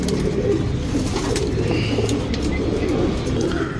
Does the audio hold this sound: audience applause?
no